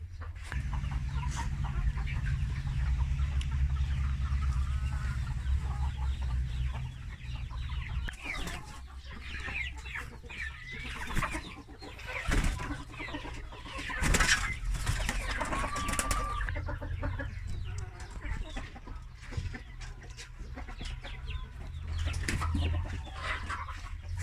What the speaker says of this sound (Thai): อันนี้ก็พ่อไก่กีฬา ไก่เยียครับตัวนี้เป็นไก่เยีย